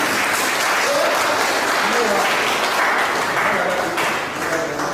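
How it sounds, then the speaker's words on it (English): Sustained, loud applause from a big crowd fills the clip, with faint voices mixed into the clapping. "Union Church, a round of applause."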